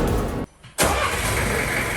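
Engine of a farm-to-market tramline vehicle in Barangay Tagukon, Kabankalan, running loud and close with a steady mid-pitched drone, briefly cut off for a moment before roaring straight back and holding steady.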